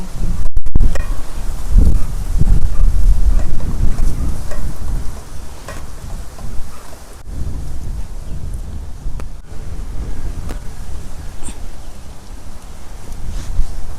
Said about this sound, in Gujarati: જો પવન લાગે છે